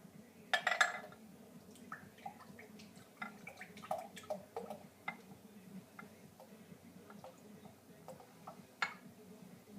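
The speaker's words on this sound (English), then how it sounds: "1 cup of RumChata and our vanilla. Mix it together and set it aside." RumChata and vanilla being stirred together in a bowl for cupcakes, light clinking and tapping of a utensil against the dish in an irregular rhythm, quiet and close.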